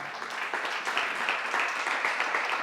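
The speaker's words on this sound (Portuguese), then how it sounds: "Dá um aplauso aí, vai." A church audience breaks into applause, a dense, even patter of many hands clapping at moderate loudness throughout, with no speech over it.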